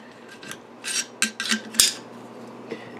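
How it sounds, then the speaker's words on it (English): Metal parts scraped and clicked while a Strike Industries charging handle is fitted into a 300 AAC Blackout rifle upper, a handful of raspy slides and one sharp click, close and fairly quiet against a low hum. "we're going to finish it off by using a charging handle from Strike Industries"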